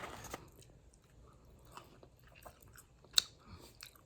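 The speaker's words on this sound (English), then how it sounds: "Drink my strawberry and banana smoothie and eat my fries." Close, quiet chewing and biting of fries with a strawberry and banana smoothie, soft irregular crunches and mouth sounds, with one sharper crunch near the end.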